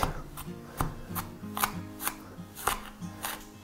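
A kitchen knife chops onion on a board, sharp close taps landing in an uneven steady rhythm about twice a second with no talk.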